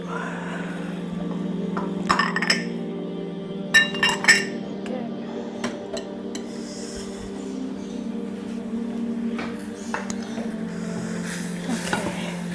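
Panna cotta ingredients going into a cooking pot on a stove, with scattered light clinks of utensils and glass against the pot over a steady hum, a few sharper taps standing out.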